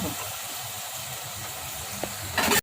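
Mixed vegetables steaming in a covered pan for basmati pulao make a steady close hiss throughout, with a small tick near the end and a brief louder rush just before the sound cuts off.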